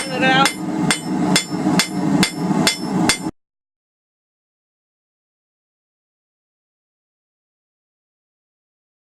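Hammer strikes on hot steel, flattening the end of a forged bottle opener keychain: about seven loud, ringing blows in a steady rhythm over three seconds, then silence.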